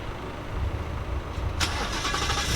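Ford Mustang S550 fitted with aftermarket headers and intake cranks and fires up at about 1.6 seconds after a steady background rumble, settling into a loud, rough idle.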